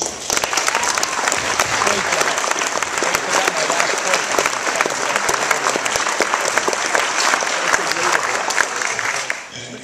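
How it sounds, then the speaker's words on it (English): An audience gives sustained applause for award recipients at a university teaching award ceremony, a dense, steady wash of clapping that fills the room for about ten seconds before tapering off at the very end. "I'd again like to ask one more round of applause for all of the recipients"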